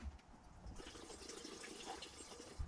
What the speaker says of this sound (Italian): Quindi togliamo il tappo e mettiamo la benzina.